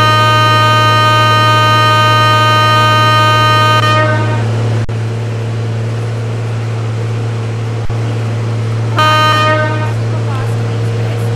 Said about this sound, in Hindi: यहाँ से रिपार्ट करते हैं हॉर्न मार के।